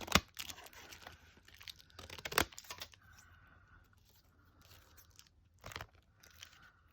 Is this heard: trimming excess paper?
yes